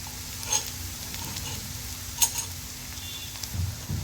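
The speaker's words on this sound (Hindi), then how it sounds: "तो देखिए प्याज हमारे जो हैं वो पक चुके हैं।" Onions frying in a pan for kachori filling, a soft steady sizzle with a few quick scrapes and clinks of a spoon stirring against the pan, close and unaccompanied by talk.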